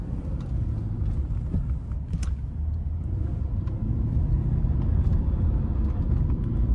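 Inside a 2020 Mercedes-Benz SL550 on the move, a steady low road and engine rumble fills the cabin, with faint clicks and a slight rise in intensity partway through, no talk.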